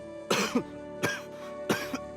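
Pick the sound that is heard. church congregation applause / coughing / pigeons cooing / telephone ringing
coughing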